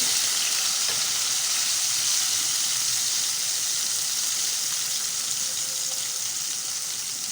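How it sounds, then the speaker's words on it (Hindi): Cumin seeds fry in hot oil as a steady, loud sizzle that holds evenly throughout, with faint stirring clatter underneath. "आधी चमची ज़ीरा, ज़ीरा डाल दिया, इसकी खुशबू हो गई।"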